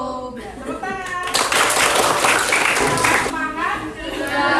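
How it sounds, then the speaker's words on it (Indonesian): A class of children claps hands together in a classroom, a dense burst of clapping that builds and then fades over a few seconds, mixed with young voices and a teacher talking. "Tepuk tangan."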